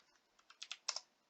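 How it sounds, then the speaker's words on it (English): A quick burst of about six light keystrokes on a computer keyboard, soft and close in an otherwise quiet room. "Just type in"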